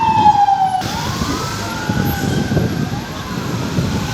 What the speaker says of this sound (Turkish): ambulans sesini duyuyor musunuz?